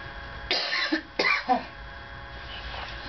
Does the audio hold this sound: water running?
no